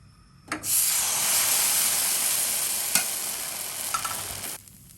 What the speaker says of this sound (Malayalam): നമ്മുടെ അപ്പച്ചട്ടി ചൂടായി വന്നിട്ടുണ്ട്. നമുക്കിനി മാവ് ഒഴിച്ചു കൊടുക്കാം.